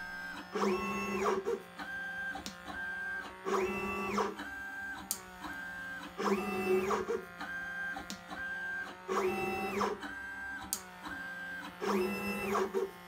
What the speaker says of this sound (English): The nozzle used to move the parts is automatically changed when needed.